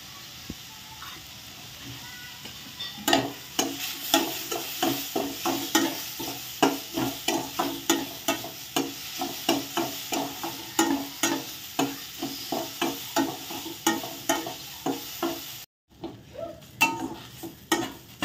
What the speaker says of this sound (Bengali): গাজর আর বিনসগুলো বেশ একটু হালকা ফ্রাই হয়ে গেছে।